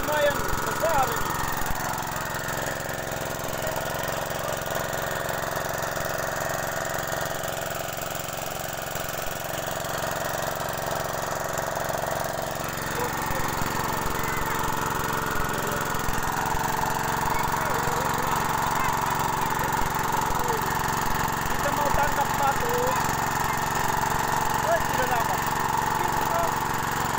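A small engine runs steadily at a drilled well, a constant mid-pitched drone with a rattling vibration that fills the whole stretch while people talk over it.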